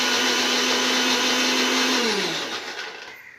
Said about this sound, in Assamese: তো এইখিনি আমি এতিয়া মিক্সিত অকণমান পিচি লওঁ